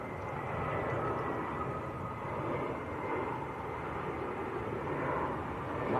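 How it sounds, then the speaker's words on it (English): Lufthansa Airbus A320 airliner arriving from Frankfurt at Manchester Airport, heard as a steady, fairly faint broadband roar from a distance that holds level throughout with no talk. "Lufthansa, Airbus A320."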